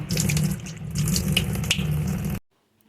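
Tap water runs steadily into a kitchen sink basin while it is scrubbed clean of greasy grime, a loud continuous splashing rush that cuts off abruptly near the end, leaving silence.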